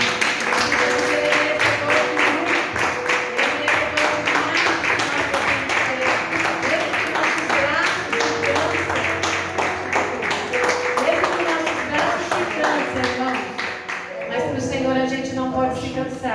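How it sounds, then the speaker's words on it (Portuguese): A church congregation claps at length during a service, a dense continuous patter of hands mixed with voices and musical tones, tapering near the end. "Mas eu queria que você desse umas palmas para Jesus."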